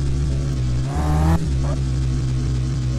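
A Nissan R35 engine in Car For Sale Simulator 2023 drones loudly and steadily, surging into a brief rev around the one-second mark before settling back to a constant close-up roar.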